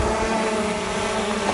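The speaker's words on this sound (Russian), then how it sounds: "На фоне этой красоты и дрона" A drone flying over a mountain summit near Dombay in summer, a steady droning buzz held at an even level throughout, with wind noise on the microphone.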